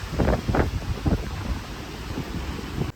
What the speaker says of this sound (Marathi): बाहेर बघू शकताय जोराचा वारा, पाऊस चालूच आहे.